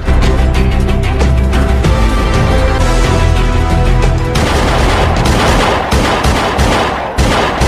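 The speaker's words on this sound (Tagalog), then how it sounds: "Stop firing! Stop firing!" A dramatic scene of heavy gunfire, with rapid, loud bursts of shots and booming reports packed close together, continuing as a dense barrage before a rougher, noisier stretch near the end.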